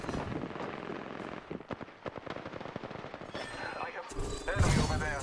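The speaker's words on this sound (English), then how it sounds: "Shots fired at me." Rapid bursts of automatic gunfire from an Apex Legends firefight, dense cracking volleys close by, swelling into louder, heavier blasts toward the end.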